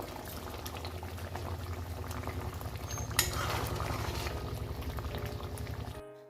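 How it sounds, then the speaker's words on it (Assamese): An uncovered pot of vegetable curry bubbles at a steady boil, a dense, continuous burble of liquid with one brief clink near the middle, before it cuts off abruptly at the end. "চব্জিটো ঢাকনিটো খুলি দিছোঁ আৰু এনেকৈ আৰু পাঁচ মিনিট সময় উতলিম"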